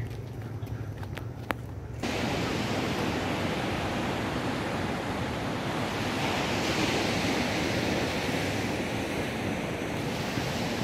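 Ocean waves wash steadily onto Praia do Secreto, a secluded beach in Rio de Janeiro, as a broad, continuous surf roar. Wind noise and a few scuffing steps come in briefly at the start.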